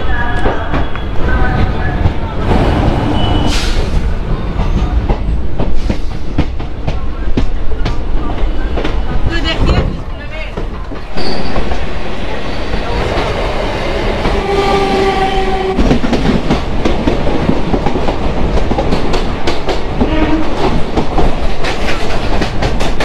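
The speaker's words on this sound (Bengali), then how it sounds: "ঠিক 2টো বাজার সাথে সাথেই ছেড়ে দিল আমাদের এই নতুন আজকের ট্রেন" Kolkata to Digha special train running, with loud rolling rumble and rhythmic wheel clatter, a horn blast early on, and brief voices over the steady rail noise.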